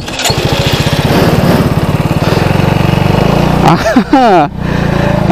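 A WMOTO Cruiser 125 AMT gearless automatic motorcycle revs loudly and close on a test ride, a fast steady engine pulse, then a brief squeal and drop near the end before the engine picks up again.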